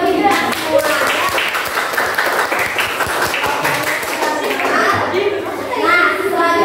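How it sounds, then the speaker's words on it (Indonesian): A classroom of schoolchildren claps together in a lively, uneven burst of hand claps with some sharp individual slaps, while children chatter and call out over the clapping. "Jadi tepuk tangan untuk kita semua, ya"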